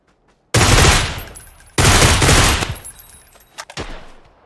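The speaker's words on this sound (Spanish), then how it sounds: "Hay dos balazos, el de arriba, y hay uno abajo." Gunfire in a video game during a live stream: two loud, sustained bursts of shots close up, the second tapering into scattered cracks and a few last isolated shots.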